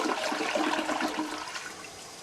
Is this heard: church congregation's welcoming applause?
no